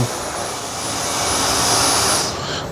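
A Dyson V10 cordless vacuum works over a matted rug, a loud steady motor roar with a high whine that swells slightly, then drops off sharply near the end; no speech.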